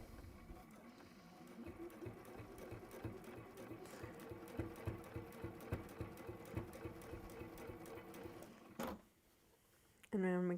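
A sewing machine stitches binding onto fabric in a steady, close mechanical run with rhythmic clatter that stops near the end, and a voice talks over part of it.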